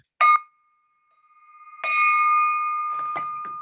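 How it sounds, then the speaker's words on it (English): A bell struck twice at a Rotary Club meeting, each strike a bright metallic ding with the second ringing on and fading slowly, followed by faint brief knocks and rustles in a quiet room. "Cess, I'd like to ring the bell twice"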